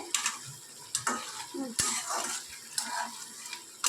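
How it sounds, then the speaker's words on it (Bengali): Okra stuffing with sugar being stirred in a pan, with scraping spoon strokes and light sizzling at an irregular rhythm, close and moderately loud, no talking. "এবার এটাকে আমরা ভালো করে একটু নেড়ে নেব"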